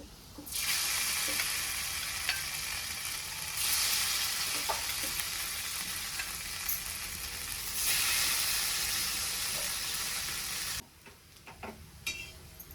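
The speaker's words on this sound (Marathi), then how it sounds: "जे दुसरं कट करून ठेवलेलं आहे का मी ती वड्या ती घेऊन तेलामध्ये टाकणार आहे" Poha vadas fry in oil on a tava, giving a loud, continuous close sizzle that swells and eases in waves, with faint utensil taps, before dropping to quieter crackling near the end.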